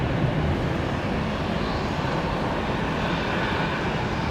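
Lufthansa heavy jet on its takeoff roll at Detroit Metro Airport, runway 21 left: a loud, steady broadband jet engine roar holding constant throughout, with no voices.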